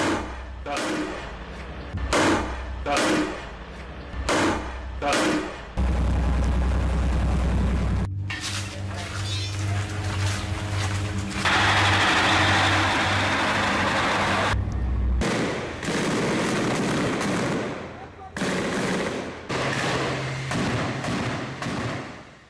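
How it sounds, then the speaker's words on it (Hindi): A gunfire barrage in Khan Younis, starting with sharp, separate cracks and then turning into a long, dense roar of shots and blasts, loud and continuous, with a voice faintly underneath. "और देखिए तड़तड़ाती हुई गोलियों की जो बौछार आपको नजर"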